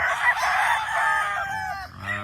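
A brass back black gamefowl rooster on a game farm crows once, close and loud, in a long rising cock-a-doodle-doo that trails off into a brief cluck.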